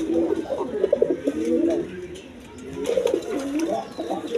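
A male Rajgolla pigeon coos in two close, rhythmic bursts of low throaty calls, with a brief quieter gap between them.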